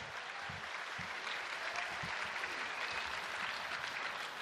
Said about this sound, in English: how about another round of applause for two great warriors?